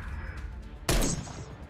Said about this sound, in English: That's a sniper rifle, by the way.